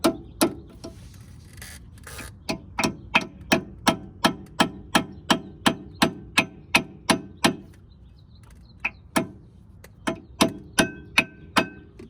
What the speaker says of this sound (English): And I'll just take a hammer